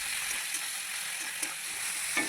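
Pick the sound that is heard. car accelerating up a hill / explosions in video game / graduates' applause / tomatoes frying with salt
tomatoes frying with salt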